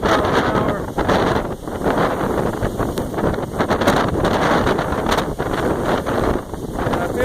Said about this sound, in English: Wind gusts got to be at least 50 miles an hour.